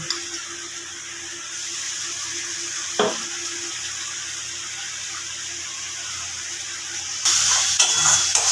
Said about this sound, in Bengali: আমি এখানে পেস্ট করা মশলাটা দিয়ে দেব টমেটো লঙ্কা পেঁয়াজ যে মশলাটা আমি পেস্ট করেছিলাম ওটা আমি দিয়ে দেব